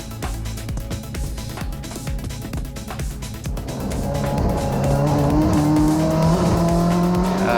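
A race car at the Rolex 20 idles with a stuttering, popping engine, then accelerates into a loud, rising, sustained engine whine heard from close by.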